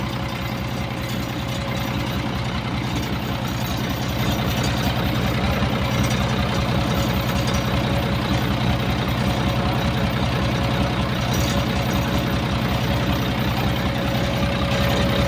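A 6M61 diesel truck engine, converted to a mechanical injection pump, idles loud and close with an even, knocking rhythm that holds steady from start to finish.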